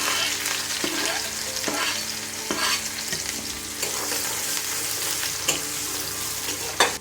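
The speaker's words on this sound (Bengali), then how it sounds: "জিরাটা একটু ভাজা ভাজা হলে তাতে দিয়ে দিব কেটে রাখা পেঁয়াজ," Chopped onion, garlic and chili frying in oil, a steady loud sizzle with regular scraping stirs every second or so, close up.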